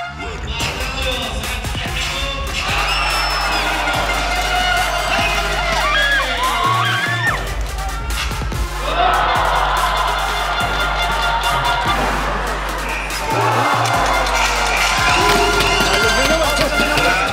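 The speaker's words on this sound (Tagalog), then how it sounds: "Grabe ang crowd dito." A large crowd cheers, whoops and shouts continuously at a basketball game in a packed multi-level arena, the roar swelling in waves across the whole stretch with a low steady hum beneath.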